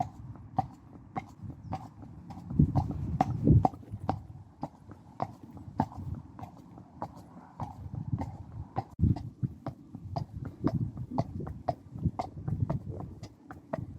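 Horse hooves clip-clop in a steady walking rhythm throughout a countryside hack near stables on a cold, windy day, moderately close, with a low rumble of wind or movement beneath and no talking.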